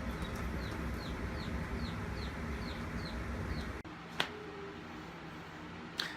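Chickens in a brooder give a rapid run of regular high peeps and soft clucks over a dense, steady background murmur, then the chatter drops to a few scattered calls.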